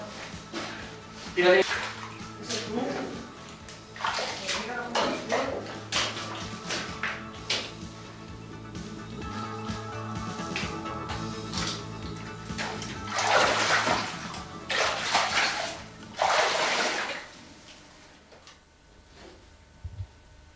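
Water runs and splashes through underground streams and pools inside a cave, with surging bursts of flow over a steady wash and indistinct voices now and then.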